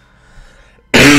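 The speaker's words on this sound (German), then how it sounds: "ich huste in meine Hand, wenn ich zu Hause bin" A single loud, abrupt cough bursts out after near silence, harsh and close, cutting off as the sound ends.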